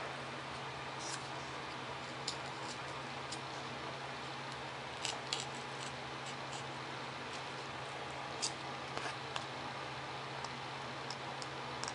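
A foam profile 3D model plane piece is trimmed with scattered, faint, sharp snips and clicks over a quiet background hiss.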